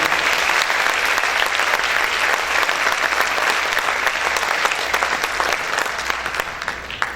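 A church congregation applauding loudly, a dense, sustained wash of clapping from many hands that carries on steadily for several seconds before easing slightly at the end.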